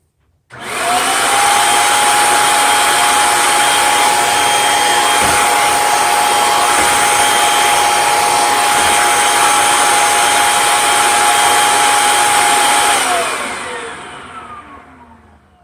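A Kirby Sentria II vacuum cleaner runs a suction lift test, a loud steady motor whine with a high tonal pitch that holds for about twelve seconds and then spins down as it shuts off.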